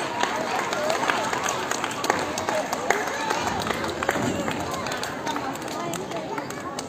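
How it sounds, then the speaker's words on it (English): A crowd of children claps together in a sustained, scattered round of applause at a prize distribution ceremony, fairly close, with some voices mixed in. "Claps, clap children, claps."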